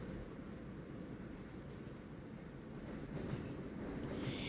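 A train sound effect from the Wani Hug Mods video game: a steady, dense rumble of a moving train with rail clatter that swells slightly toward the end, with no voices.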